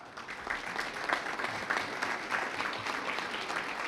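At a building groundbreaking ceremony, an outdoor crowd applauds the engineering and design teams with steady, moderately distant clapping that goes on for several seconds.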